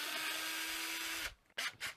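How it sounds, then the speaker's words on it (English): A power drill with a 7/64 inch bit bores a small 2mm hole, whirring steadily at close range before spinning down, followed by a couple of brief scraping rubs. "Let's find a drill bit we can drill the 2mm hole with."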